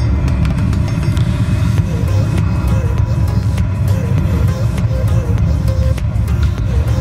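On the EPCOT Mission: Space ride, a simulated rocket engine lift-off produces a loud, dense, continuous low rumble that stays heavy and steady for several seconds, with faint voices underneath.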